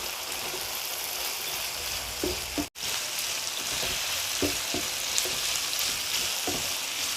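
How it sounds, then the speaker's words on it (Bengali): Pepper chicken curry with garlic powder and vinegar frying in a pan, a steady close sizzle with a few soft stirring knocks and no talking. "আবারও ভেজে নেব।"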